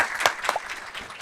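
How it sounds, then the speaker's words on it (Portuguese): A short burst of scattered audience applause for a guest at a corporate talk event. A few distinct claps stand out over a fairly faint, thin background of clapping. "Vamos uma salva de palmas aqui para a Tânia, para o grupo."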